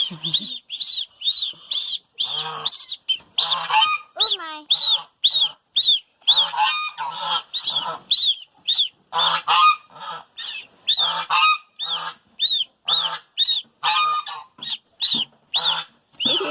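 Young geese honk repeatedly at close range, a rapid, insistent series of calls overlapping one another throughout.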